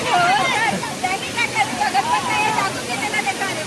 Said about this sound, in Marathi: माळशेज वॉटरफॉल.